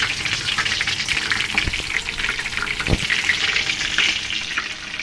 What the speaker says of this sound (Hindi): अब मैं ये डाल के आपके 2-3 इसके पीस फ्राई करके दिखा रही हूँ।